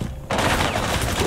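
Gunfire in Rainbow Six Siege: after a brief quiet moment, a loud, dense burst of rapid shots erupts close by and continues as a rattling volley to the end.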